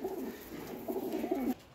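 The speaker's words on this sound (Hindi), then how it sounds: "लुंडा कबूतर है क्रॉस में सियालकोटी" A Lunda pigeon crossed with a Sialkoti high-flyer gives a short run of soft, throaty coos that swell toward the end, close and unaccompanied by talk.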